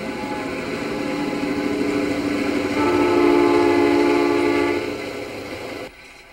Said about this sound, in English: Now the Streamliner, the city of Miami, arrives.